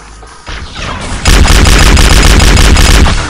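Rapid plasma pistol shots crackle in Halo, a loud burst of repeated energy bursts after a quieter lead-in, dense and close with no speech.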